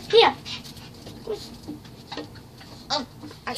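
A dog whimpering in short high whines with soft panting breaths between them, close by and fairly quiet, while a person calls to it.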